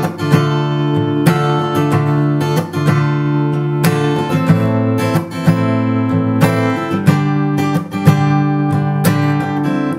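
Acoustic guitar plays the second strumming pattern of a song, a steady rhythmic chord strum with regular accented strokes about every second and sustained ringing chords, loud and close with no voice.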